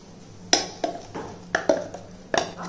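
Ground green gram paste is scraped from a mixer jar into a bowl for weight-loss dosa batter, giving a handful of sharp metallic clinks and taps at an uneven pace, close and fairly quiet, with no talk.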